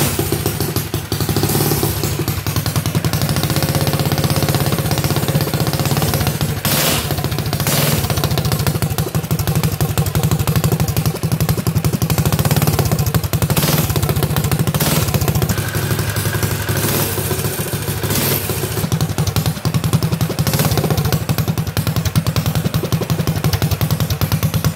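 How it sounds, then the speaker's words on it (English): An Azusa mini bike kit engine runs loudly and close, a steady buzzing, rattly small-engine drone that holds throughout with occasional clattering bursts and no voices. "I'm going to try to fire her up for you guys."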